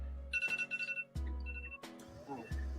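A phone goes off during a casual drawing chat, with a repeating bright electronic ringtone melody in several bursts separated by short gaps, fairly close and clear with no talk over it.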